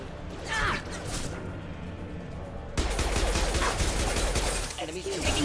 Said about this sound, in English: Enemies taking heavy fire.